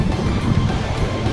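The Apurímac River rushing below a swaying bridge on the Choquequirao trek: a loud, steady roar of fast-flowing water filling the whole clip, broad and continuous with no voices over it.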